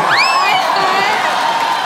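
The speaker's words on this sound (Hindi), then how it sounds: "आप सबकी जोरदार तालियों के बीच please welcome the very beautiful Mrs Aishwarya Rai Bachchan" A studio audience cheering and whooping to welcome Aishwarya Rai Bachchan onto a comedy show: loud high-pitched shouts and whistle-like whoops over a continuous roaring crowd, sustained throughout.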